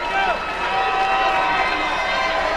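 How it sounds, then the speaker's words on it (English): A crowd at a fight event roars in a continuous, loud wash of cheering that holds steady throughout. "Here goes the crowd again."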